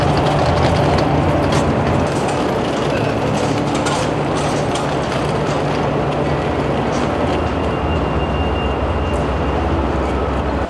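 Steady rumble and rattle of the Amtrak Lake Shore Limited heard from inside a coach car, a loud continuous rolling roar with faint clicks of wheels on rail throughout, no voices.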